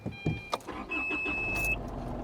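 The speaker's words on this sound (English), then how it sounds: "And there's another beep as you start the car" A 2019 Isuzu MU-X 4x4 starts up with a brief engine crank while a high, steady electronic warning tone sounds for about a second.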